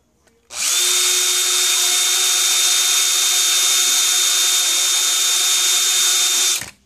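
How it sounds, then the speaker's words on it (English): An electric drill bores into metal, running steadily at high speed for about six seconds, loud and close, with a constant whine, then stops abruptly. "I'm going to keep continuing to drill."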